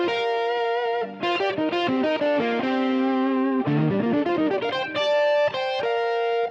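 Electric guitar run through a Fractal AX8 pitch shifter, playing a melodic line of sustained, layered notes with a distorted, chorus-like shimmer. The notes shift in steady phrases, loud and close, with no voices.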